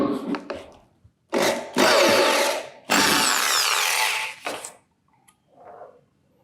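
A Bosch GSB 600 impact drill runs in short bursts starting at low RPM, whining on and off with brief pauses between triggers, close and loud with no talking.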